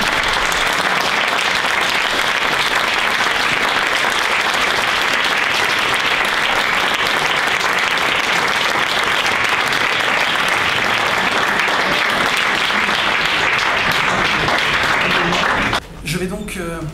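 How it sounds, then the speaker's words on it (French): A festival audience at Gérardmer gives a long, dense, loud round of applause welcoming film director Claude Lelouch, sustained without break before cutting off abruptly near the end. "je vous demande dès maintenant de l'accueillir et de l'applaudir"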